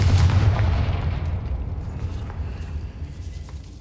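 Confringo fire-blast spell from the video game Hogwarts Legacy, a single loud deep boom at the start that rolls off into a fading rumble over a few seconds.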